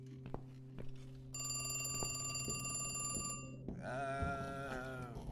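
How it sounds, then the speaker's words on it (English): A telephone rings inside The Cat Lady video game, with steady bright bell tones repeating for several seconds over a low background hum and no one talking. "So the phone's ringing."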